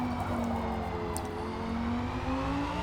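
A Porsche 911 GT race car in a racing game at Laguna Seca accelerates hard, its engine note climbing steadily in a continuous loud drone with no talk over it.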